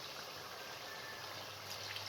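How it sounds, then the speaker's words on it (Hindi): Water poured into a pot of cooking meat for a dhaba-style daal mash and gosht: a steady, faint, continuous trickling pour throughout, with no voices. "अब इसके अंदर 4 गिलास पानी डाल दें ताकि गोश्त अच्छे तरीके से गल जाए।"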